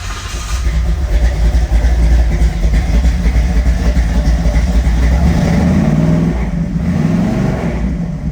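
A 1933 Ford Vicky with a Roush 402 engine runs with a loud, deep, steady rumble close by, with slight rises in revs throughout.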